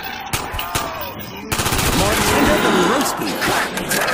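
Gunfire in Black Ops Zombies: a few sharp early shots, then a dense, loud burst of rapid fire mixed with speech-like voices and game noise.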